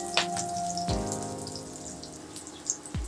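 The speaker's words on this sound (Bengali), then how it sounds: "রসুন আর কাঁচা লঙ্কাটাকে একটু দু সেকেন্ড মতন ভেজে নেব" Chopped garlic and green chili fry in hot oil, giving a brief, close crackle of scattered pops and spits with a couple of soft knocks.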